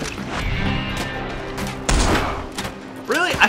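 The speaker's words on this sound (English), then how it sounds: "I shot that guy right in his face" Gunshots in the Red Dead Redemption 2 video game, several loud close bangs scattered across a few seconds amid game ambience and some vocal sounds, irregular in rhythm.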